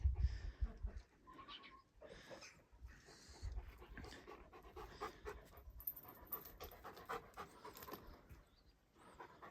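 Herding dogs pant and move about close by in water, with scuffling and rustling under a steady outdoor background, occasional short yelps breaking through.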